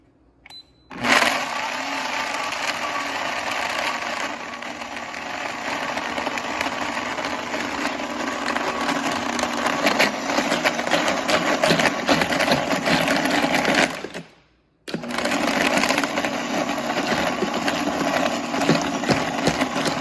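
ZWILLING Enfinigy Power Blender, black 64-ounce jar, crushing ice for snow cones: a loud motor whir with rattling ice starts abruptly, runs steadily, stops for a moment, then resumes.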